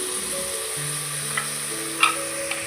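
Diced potato and carrot sauté in a pan for Kerala-style chicken stew, giving a steady, close sizzle while being stirred, with a few brief utensil clinks against the pan.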